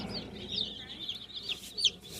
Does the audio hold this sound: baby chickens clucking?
yes